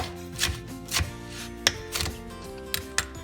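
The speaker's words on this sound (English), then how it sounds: "Now my dad's gonna chop the bacon." A parent chops bacon for a breakfast burrito on a cutting board, giving a run of about six sharp knife strikes at an irregular rhythm, close and fairly loud over faint kitchen background.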